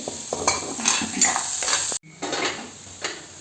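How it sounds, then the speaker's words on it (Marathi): Masala for a village-style crab curry sautéing in a pan, with a crackling sizzle and repeated scraping stirs of a metal utensil against the pan, a brief break midway, then more stirring. "हे पा मसाला मस्त परतून झालेला आहे"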